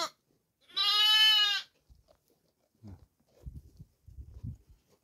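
A goat gives one loud, clear bleat close by during lambing season at a farm, followed by faint low shuffling and knocking sounds of livestock.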